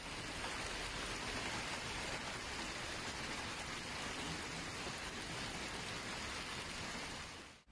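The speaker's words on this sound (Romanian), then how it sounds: "Un val de grindină și ploi s-au năpustit peste capitală." A heavy rain and hail storm over Bucharest: dense, continuous hiss of downpour and pelting ice striking surfaces, steady and enveloping without pause, no voices.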